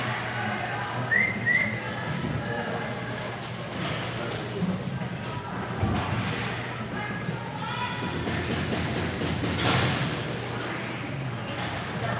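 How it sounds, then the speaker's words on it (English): A short referee whistle blast sounds twice early on during an under-18 ice hockey game, cutting through crowd noise and a commentator talking over the arena din. "Whistle goes."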